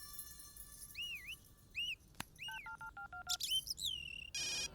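A phone rings for an incoming call in a South Indian action film scene: a chirping, warbling electronic ringtone with beeping tones, fairly faint, ending in a buzzing burst.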